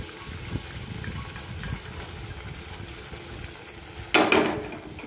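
Peas for ghugni are tipped into a pan of hot oil, giving one sudden sharp hiss and clatter that fades within half a second, after a low, quiet kitchen rumble.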